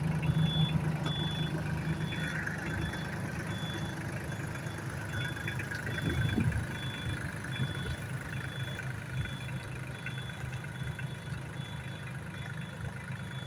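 Solis 26 mini tractor from the Sonalika factory running steadily through a slow tractor race, its low diesel drone continuous and moderately loud with a faint steady whine above, alone without talk.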